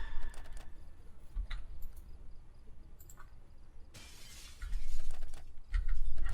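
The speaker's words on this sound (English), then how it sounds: "What does the smashing the rear windshield do, if not that?" A car's rear windshield is smashed in the Project Zomboid video game, a sharp shattering burst followed by tinkling glass fragments over a low background hum, with a second crunchy burst near the end.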